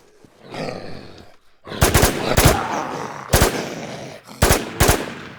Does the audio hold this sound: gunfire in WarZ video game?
yes